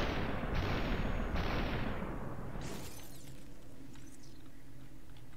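A rapid volley of gunshots in the video game Superhot cracks out in close, loud bursts, then fades into a quieter rumbling tail with faint distant hits.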